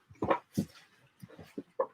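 A small dog whimpers and whines in a few short, separate bursts, close by with quiet gaps between them.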